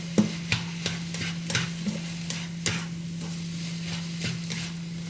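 Seasoned cottage pie filling stirred in a pan: a steady low hum runs beneath repeated scraping knocks of a utensil against the pan, spaced about half a second apart, close and moderately loud.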